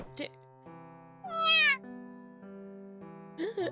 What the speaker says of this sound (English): Just then, we hear a tiny meow from inside.